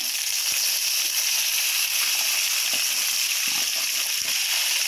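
Small onions sautéing in hot oil, a constant bright sizzle with faint spatters and pops underneath, close and steady with no talking.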